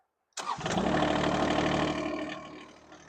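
Diesel engine of a Kanga DT725 mini loader cranking and firing up after a moment of silence, then settling into a loud, steady idle nearby.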